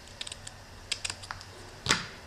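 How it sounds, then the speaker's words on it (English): Scissors trim a die-cut paper roof piece for a craft house, a few soft, crisp snips spaced out in quiet surroundings, ending in a louder rustle. "So now all I'm going to do is just take my scissors and trim across there."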